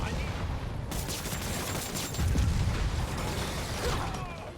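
Gunfire and clattering mechanical action in the Spider-Man PS4 video game, with a burst of rapid pops and creaks amid dense game noise.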